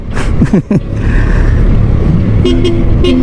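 A small e-bike horn, an NXT Dynamax, beeps in short, thin, squeaky toots, several in a row near the end, over steady wind rush and road noise from a moving ride.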